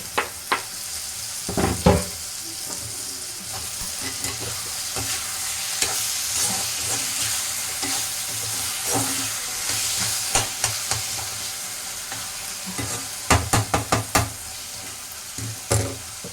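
Tomatoes and onions sauté in a pan with salt for a chicken curry lunch, giving a steady close sizzle broken by repeated scraping stirs and clatters of the spoon against the pan, with no voices.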